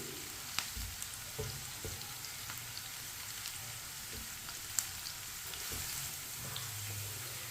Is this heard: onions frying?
yes